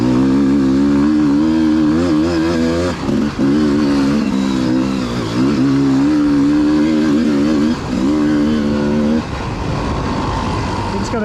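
A Gas Gas 300 two-stroke enduro dirt bike, the original Spanish model, revs and labours through a hard enduro prologue lap, its engine loud and close throughout with rising and falling throttle, while a voice talks over it.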